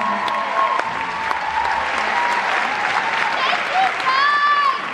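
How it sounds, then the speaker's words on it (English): A concert crowd at a show in Philadelphia's Tower Theatre claps loudly and steadily, a dense wash of applause with scattered cheers and whistles rising near the end. "So give yourselves a huge round of applause for showing up tonight, for showing your support."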